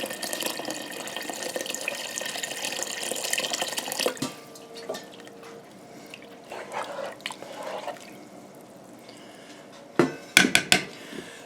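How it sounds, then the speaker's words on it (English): Cold water runs steadily from a tap into a pot of meat and vegetables for several seconds, then stops, followed by a few sharp clinks of metal cookware. "we're just going to add water, some cold water, till it just covers up all the meat and the veggies"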